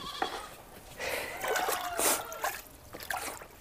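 Thirsty baby goats on a goat farm bleat in short, overlapping calls over steady trickling and splashing water, fairly close and continuous across the few seconds.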